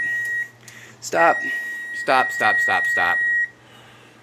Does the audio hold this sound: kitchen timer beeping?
yes